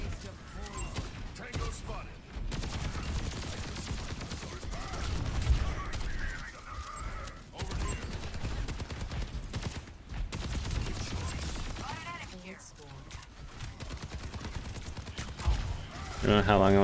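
Rapid gunfire from Overwatch 2 gameplay rattles through most of the stretch in dense bursts, mixed with game effects and pauses, fairly loud and steady.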